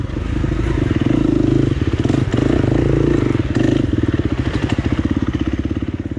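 An enduro motorcycle rides off-camber along a wooded hillside at the Drumlin Hills MX Enduro Test, its engine running close and steady, with clattering and pulsing throttle changes and no talking.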